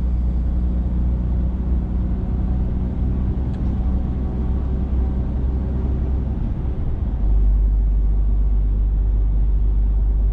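A car engine droning steadily through narrow motorway roadworks, a constant close rumble that deepens and grows slightly louder near the end as the driver accelerates.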